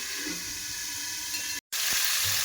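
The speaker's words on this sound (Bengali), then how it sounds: "আলুর শিম বেগুনটাকে একটু ভেজে নিই।" Potato, beans and eggplant fry in a pan, producing a steady close sizzle and hiss that is cut by a brief silent gap partway through and then resumes.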